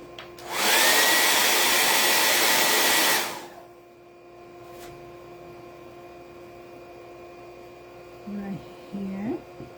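A hair dryer blasts loudly and steadily for about three seconds while drying a patriotic star craft project, then cuts off, leaving a faint hum and brief speech near the end.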